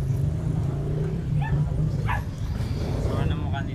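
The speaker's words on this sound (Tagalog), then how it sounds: "And there is a dog." A dog gives a few short, faint barks and yips outdoors near a school polling place on election day in the Philippines, half lost under steady traffic rumble and people talking nearby.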